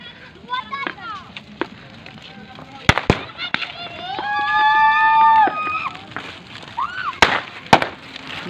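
Sharp cracking bangs from firecrackers at a Holika Dahan bonfire burst at irregular intervals, with whistling and voices in between, fairly close and loud.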